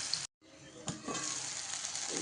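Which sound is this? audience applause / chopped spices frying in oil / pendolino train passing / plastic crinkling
chopped spices frying in oil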